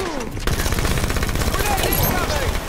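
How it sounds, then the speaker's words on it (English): Dense bursts of gunfire in Halo 5 Warzone Turbo, with sniper beam rifle shots fired at a Scorpion tank amid a steady, loud crackle of rapid shooting. "I shot my sniper rifle at that scorpion tank because I thought I could kill it"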